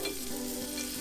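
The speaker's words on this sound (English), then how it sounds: "You can see the splattering of the curry leaves." Curry leaves with hing crackle and spit in hot oil for a tadka in a Maharashtrian moong dal aamti, a brief, close, steady sizzle.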